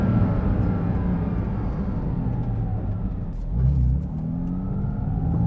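A Porsche 718 Cayman GT4 RS flat-six drones steadily from inside the cabin on a wet drive, a low continuous engine tone swelling briefly as it accelerates, with no talk.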